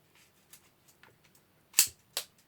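A BB gun fires indoors: faint clicks and light taps lead up to two sharp, loud snapping shots close by, the second a little softer than the first.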